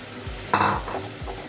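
Spice masala frying in a pan with onions and tomatoes, a soft sizzle under brief scraping and stirring clinks of a spoon against the pan, close and fairly quiet, no talking.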